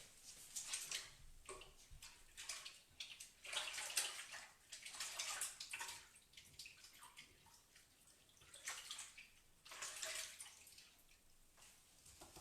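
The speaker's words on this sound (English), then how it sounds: "I'm just going to wash my hands" Hands being washed under running tap water, a faint splashing flow that swells and fades in uneven surges for about twelve seconds, with no talk.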